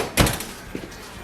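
An oven door swings shut on a homemade Texas pecan pie, one firm thud with a short rattle as the latch settles, then a couple of faint knocks in a quiet kitchen.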